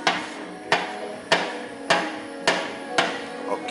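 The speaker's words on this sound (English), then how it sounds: "I will use first the screwdriver to make some deep scratches." A screwdriver gouges deep scratches into paint protection film on a car, six sharp, evenly spaced scraping strokes close up, each a quick bright scrape with a short tail, no talking.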